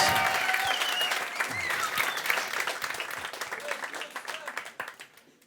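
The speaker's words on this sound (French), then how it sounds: "Un maximum d'applaudissements, s'il vous plaît" A crowd at a slam poetry battle applauds with dense, steady clapping and a few whoops, then the applause thins out and fades near the end.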